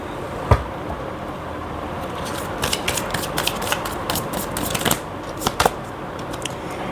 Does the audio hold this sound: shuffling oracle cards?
yes